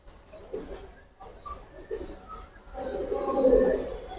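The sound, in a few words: Giribaz pigeons cooing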